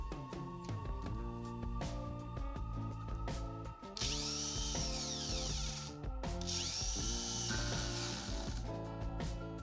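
A Procraft cordless drill-driver drives a screw into wood for garage shelves, its motor whining steadily up close in two strong bursts with a sharp rising pitch, interrupted by a brief pause.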